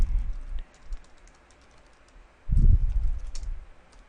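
Computer keyboard keys click in a quick run of soft, close taps while a switch VLAN command is entered, with a muffled thump partway through.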